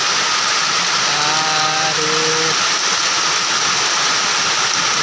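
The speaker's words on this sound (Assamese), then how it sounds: "এতিয়াও বৰষুণ এৰাই নাই ইমান জোৰকৈ বৰষুণ দিছে" Heavy rain pouring in the parking area of the Numaligarh refinery, a loud, dense, unbroken roar close by throughout, with a voice speaking briefly over it early on.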